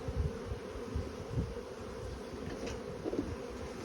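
Honey bees hum around an open hive as it is being closed, a continuous dense buzz of many insects close by, fairly soft and even.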